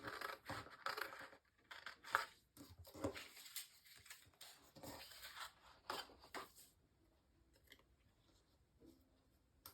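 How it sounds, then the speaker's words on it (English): Scissors snip and crunch through paper in irregular bursts, close and fairly quiet, with rustling between cuts and the activity tapering off toward the end. "And then cut it out."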